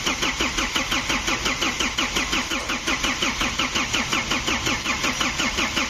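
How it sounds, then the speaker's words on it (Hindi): A Tata Xenon Yodha pickup with a starting problem cranks on its starter with a steady, fast rhythmic chug that repeats evenly for about six seconds, close and fairly loud, with no talking over it. "तो चलिए क्रैंक करवाते हैं।"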